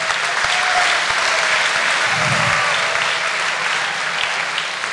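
An audience at a live Q&A session breaks into steady, full applause that fills the room evenly from start to end, with no talk on top.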